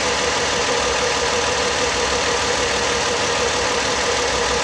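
Ford Escape engine idling steadily with a misfire, a continuous close mechanical drone with an uneven knocking beat throughout.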